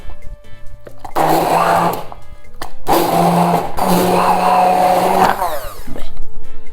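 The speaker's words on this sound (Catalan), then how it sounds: "amb el mini pimer, trinxarem la ceba, així quedarà més fina" A Minipimer hand blender chops onion for bacallà a la biscaïna, whirring loudly in several bursts separated by short pauses, its pitch dipping and rising as the blades bite.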